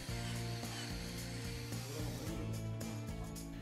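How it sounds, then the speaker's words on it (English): A power drill whirs steadily as its bit is worked side to side to elongate holes in a UPM ProFi composite decking board, with a close, continuous buzzing tone and rhythmic grinding pulses. "This is achieved by moving the drill bit inside the hole from side to side."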